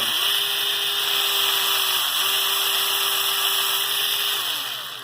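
A power drill fitted with a 3/32 drill bit bores into wood, its motor whining steadily and loud at close range, the pitch dipping briefly midway as it bites, with no talk.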